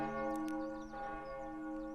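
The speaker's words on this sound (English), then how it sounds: "That's a massive church bell." A massive church bell in an anime episode rings with a sustained, humming resonant tone that lingers steadily, moderately loud, with faint high chirps over it early on.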